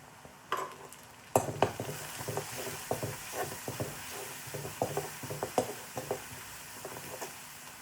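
Curry leaves dropped into hot oil in a pan for drumstick rasam: a sudden burst of sputter, then a run of quick crackling pops over a steady hiss, with no talking.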